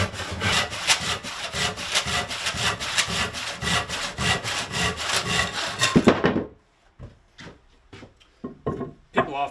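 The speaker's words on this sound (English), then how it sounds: "I'm going to cut off this piece of rosewood" Hand saw cutting through a piece of rosewood, a steady loud rhythmic rasp of back-and-forth strokes for about six seconds, then a few scattered scraping strokes and knocks after the blade clears.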